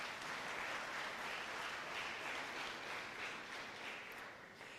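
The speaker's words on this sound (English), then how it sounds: "Give yourselves a round of applause." An awards ceremony audience claps in a sustained round of applause, dense uniform patter heard from a distance and fading slightly toward the end.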